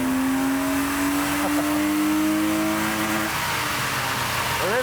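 An old car on a dyno revs hard to its rev limiter, the engine note climbing steadily and loud throughout, then stuttering and bouncing against the limiter near the end.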